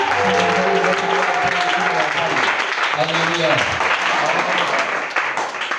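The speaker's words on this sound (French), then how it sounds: "Est-ce que quelqu'un peut acclamer pour la gloire de Dieu?" A church congregation cheers and applauds in praise, loud sustained clapping and shouting throughout, with a voice calling out over the crowd.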